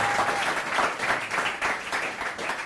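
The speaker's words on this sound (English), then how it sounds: "A round of applause" At a London startup pitch event, the audience applauds as the next founder, from LifeBank, is welcomed up; even, continuous clapping of moderate loudness fills the whole stretch.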